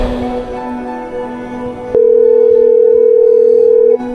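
A telephone line sounds a busy signal while calling a radio show guest: a loud, steady electronic tone holds for about two seconds after a short stretch of faint line noise and hum, with no voices.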